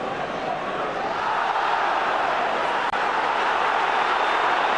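A football crowd at Celtic against Hearts rumbles with a sustained, dense roar of disapproval, loud and steady throughout with no clear individual voices standing out.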